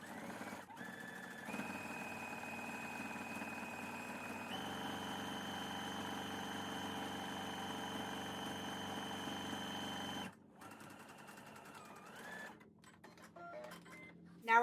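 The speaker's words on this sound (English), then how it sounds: "let's go ahead and take this over to the sewing machine" A sewing machine stitches fabric strap pieces for a handmade banana bag, its motor whirring in steady long runs with brief pauses and a change of pace near the end, close and alone.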